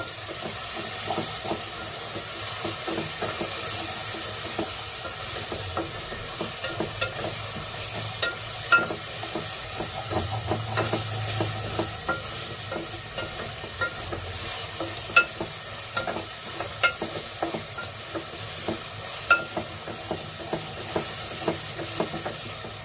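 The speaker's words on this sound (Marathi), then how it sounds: "बघा मस्त कांदा असा ना आपला आता शिजायला आलाय" Onion fries in a pan with asafoetida added, a constant bright sizzle and hiss broken by frequent scraping stirs of a spoon against the metal, close and steady, with no speech.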